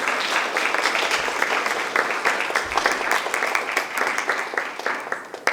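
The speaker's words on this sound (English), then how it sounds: "give them a round of applause one more time?" Audience at a Westmont College talk on the culture and nature of the Maya forest breaks into sustained, dense applause. Scattered sharper claps stand out from the steady wash.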